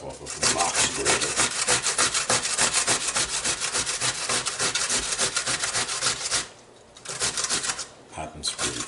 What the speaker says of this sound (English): I guess we all know how to grate stuff off of the box grater.